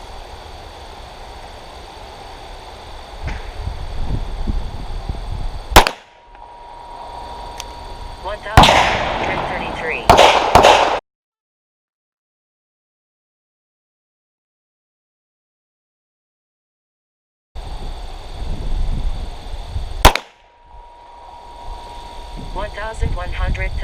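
A Glock 34 pistol firing 9mm handloads with N320 powder over a chronograph outdoors: two sharp loud shots several seconds apart, with a burst of noise between them, a gap of silence, and a third shot later.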